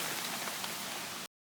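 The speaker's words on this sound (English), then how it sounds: "It is raining." Steady rain falls in a dense, even hiss of drops on surfaces, loud and close, before cutting off abruptly near the end.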